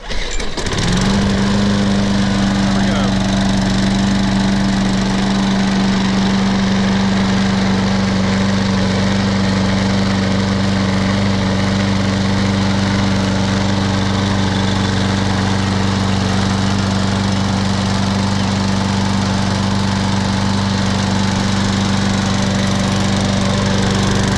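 A Troy-Bilt 21-inch 675 Series lawn mower with a Briggs & Stratton engine and a sharpened blade fires up within a second, then runs at a loud, steady close-range roar with no talk.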